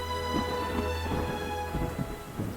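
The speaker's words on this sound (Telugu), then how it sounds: "పార్వతి, బయట వర్షం పడుతుంటే కిటికీ కాడ నించుని ఏం చేస్తున్నారు?" Rain falls steadily outside with thunder rumbling low beneath it, a soft wash of sound mixed with sustained musical tones, no speech.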